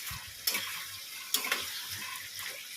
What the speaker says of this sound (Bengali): এঁচুর আলুটা ভালো করে কষাবো